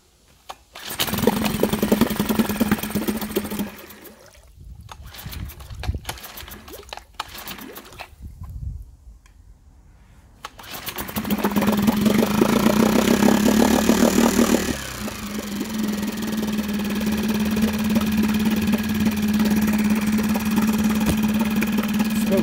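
A Mercury 3.5 HP four-stroke outboard engine is pulled and fires up, catching in sputtering bursts with brief quiet gaps before settling into a steady, close, buzzing idle with a strong hum.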